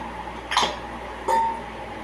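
A metal kadai wok is set down on a stovetop for a mushroom pepper fry, making two distinct clinks about three quarters of a second apart, each with a short metallic ring, in a quiet kitchen.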